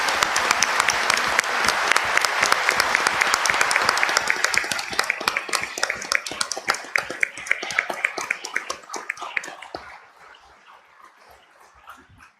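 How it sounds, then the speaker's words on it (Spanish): A crowd at a tribute ceremony for victims of terrorism breaks into loud, sustained applause. The dense clapping thins into scattered claps and fades out over about twelve seconds, with no talk over it. "un fuerte aplauso para todas ellas."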